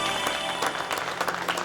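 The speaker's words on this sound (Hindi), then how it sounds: "एक बार जोरदार तालियां।" A studio audience at a Bhojpuri TV show claps in a brief, dense burst of applause, steady and fairly loud from start to finish with no voices over it.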